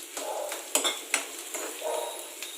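A spoon stirs and scrapes spices with green chili and black pepper in a hot pan for samosa filling, sharp metallic clinks and scrapes in an irregular rhythm over a soft sizzle, close and alone.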